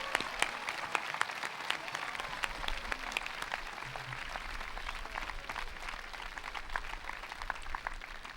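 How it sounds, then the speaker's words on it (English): Graduation audience applauding the class of 2012 scholarship recipients, a dense, steady wash of clapping from a large crowd heard at a moderate distance, continuing without a break. "let's give them a nice round of applause."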